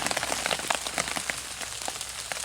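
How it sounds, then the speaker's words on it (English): Rain patters steadily in the Scottish Highlands, a dense crackle of drops striking a nearby surface, close and continuous with scattered louder taps. "That's more rain on."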